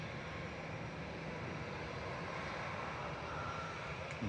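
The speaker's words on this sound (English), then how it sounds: "The AIBD is a 14-year-old A319 with flight 941 heading back to Frankfurt" A 14-year-old Lufthansa Airbus A319 in classic livery, departing Manchester for Frankfurt, produces a continuous broadband engine rumble at middle distance, holding steady without talk.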